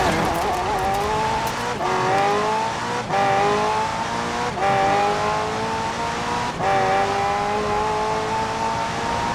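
A McLaren P1 GTR hybrid supercar in Forza Horizon 4 screams through repeated hard upshifts, its loud engine note climbing and then dropping at each gear change, nearly continuous and close throughout.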